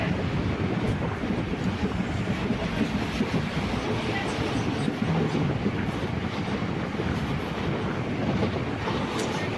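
The Punalur–Nagercoil passenger train rumbles along the rails between Kollam and Nagercoil, a loud, steady, close roar with faint clickety-clack, heard from on board.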